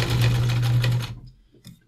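A sewing machine stitches a pleated fabric face mask with elastic, running in a steady close whir for about a second before stopping, followed by faint handling noises.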